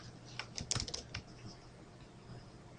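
Keys clatter in quick, irregular bursts as someone types on a computer keyboard, quiet and close, followed by a brief lull.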